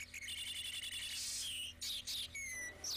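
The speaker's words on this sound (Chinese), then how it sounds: "它其实是由一张黑色的小纸片发出来的。" Bird-like chirping and trilling comes from a small black sheet of graphene nanomaterial acting as a paper speaker, with rapid repeated tweets and short gaps over a faint steady hum.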